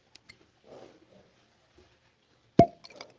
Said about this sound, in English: That's probably the best cork pop I've ever had, except maybe on champagne.